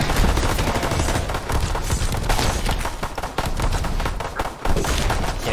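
Rapid, sustained gunfire from a zombies game, Frozen Dawn, rattles loud and close, dense bursts of shots running nearly without pause.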